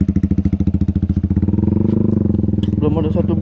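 Honda CBR 250R motorcycle engine, close and loud, with a fast pulsing idle that rises into a steadier drone near the end, where voices join in.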